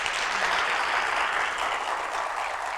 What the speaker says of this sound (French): on va vous applaudir encore très fort